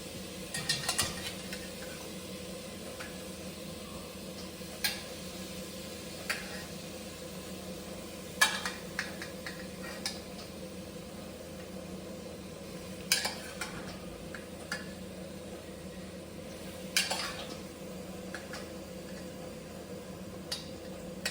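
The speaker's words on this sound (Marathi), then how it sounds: "जी फुलगोबी आपण बॉईल करून घेतलेली आहे ती या मसाल्यात टाकणार आहोत." Boiled cauliflower being added to masala and stirred in a pot for a fulgobi recipe, with sparse, faint clinks and scrapes of a spoon at irregular intervals over a steady low background hum.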